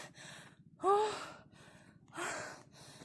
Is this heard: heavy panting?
yes